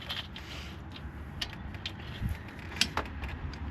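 A ratchet fitted with a 6mm Allen socket loosens bolts during an AC install on an LS-swapped S10. Faint, close, sparse clicks and creaks sound over a quiet background, with no talking.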